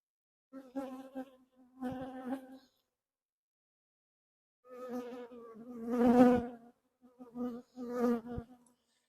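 Honey bees in the Poppleton hive buzz loudly in a few separate bursts during an autumn inspection, with silent pauses between rising and falling swells of humming.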